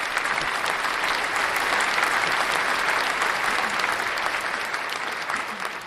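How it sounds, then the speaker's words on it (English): A burst of dense applause, like a sizable crowd clapping, plays continuously at steady loudness for about six seconds, given as a clap of thanks to a livestream viewer. "Give you a clap for that for sure."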